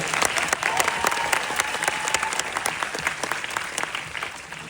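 Steady applause from a theatre audience at a cast Q&A fills the whole stretch, dense clapping holding at an even level with a faint murmur of voices underneath.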